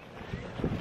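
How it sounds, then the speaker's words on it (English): Strong wind buffets the microphone outdoors at an airsoft sniper shoot, a low rumbling roar in uneven gusts, close and steady with no voices. "It's very windy today."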